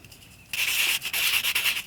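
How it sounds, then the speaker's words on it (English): A sanding block rubs lightly over a dry handmade snowman craft, giving a soft, close, steady scratchy rasp in short strokes with tiny breaks after a quiet start. "I'm just gonna take a sanding block and just lightly sand it"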